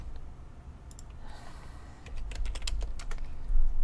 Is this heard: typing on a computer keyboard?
yes